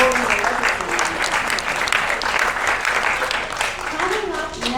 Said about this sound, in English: So give yourselves a round of applause for supporting the legislature.